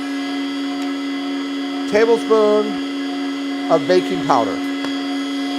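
An electric mixer whirs steadily and loudly through gluten-free pancake batter, a constant motor hum running beneath brief speech.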